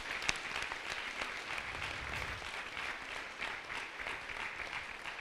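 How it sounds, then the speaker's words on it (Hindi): Steady, fairly faint audience applause at a book launch for a retelling of Sita's story, a continuous patter of many hands clapping at a distance for the author. "एक बार जोरदार तालियां इस किताब की लेखिका के लिए।"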